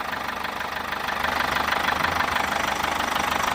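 Abnormal engine noise from a Chevrolet Captiva 2.0 with a suspected turbocharger problem: a steady idling hum with a fast, even ticking knock running through it, growing a little louder partway through.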